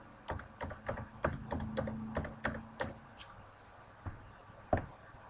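A computer keyboard being typed on while entering a tax or personal ID number into an online form: a quick run of crisp, close key clicks, then a pause and a couple of isolated taps.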